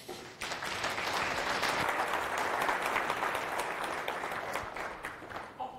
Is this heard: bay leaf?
no